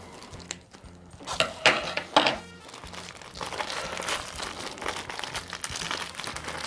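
Plastic packaging of an AliExpress Dragon Ball Super Card Game play mat crinkling and rustling as it is unwrapped, with sharper tearing bursts early on, then steady close crackling throughout.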